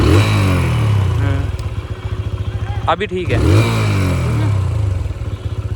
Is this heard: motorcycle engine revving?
yes